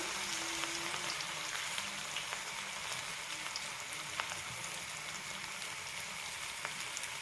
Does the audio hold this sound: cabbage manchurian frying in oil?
yes